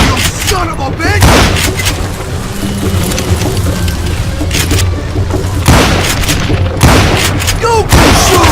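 Gunfire in the Western shooter Call of Juarez Gunslinger, several loud sharp shots spaced irregularly over about eight seconds, cracking through dense battle noise, with voices shouting in the background.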